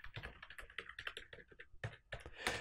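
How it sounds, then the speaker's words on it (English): Typing on a computer keyboard while working in Excel, with rapid, uneven clusters of close, crisp key clicks in a short burst. "And now when I type something in"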